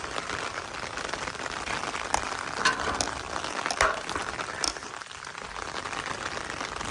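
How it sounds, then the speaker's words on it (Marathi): Steady rain patters on surfaces, a dense even hiss with a few sharper drips, no voices. "हे बघा आपलं घर वा पावसात भिजून निघायला लागलंय सगळं"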